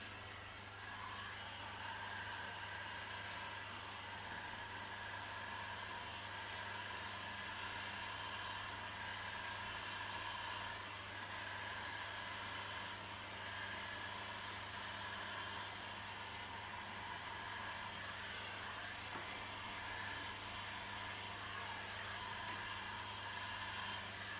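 A heat gun blows steadily on window tint film, giving a continuous even whoosh with a low hum underneath, unbroken and fairly quiet throughout.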